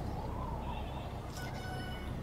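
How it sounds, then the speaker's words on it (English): A chicken-like creature in the video game The Mims clucks over steady low background music, with a short burst of higher chirping calls partway through. "They're kind of dumb, you know, they're chickens."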